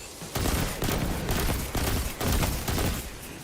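Rapid, heavy gunshots from a hand cannon in Destiny, five or six loud booming blasts in steady succession.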